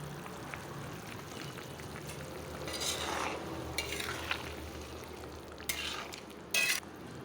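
Eggplant going into an egg curry with potato in a pan and being lightly stirred, giving a steady low sizzle with soft scraping strokes and a few sharper clatters near the end, no talk.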